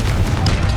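A Confringo spell blast in the Hogwarts Legacy video game: a single short, loud, booming burst with a dense, full-bodied roar filling the whole fraction of a second, heard alone without any voices.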